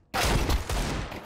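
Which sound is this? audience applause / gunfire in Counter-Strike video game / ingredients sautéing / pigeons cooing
gunfire in Counter-Strike video game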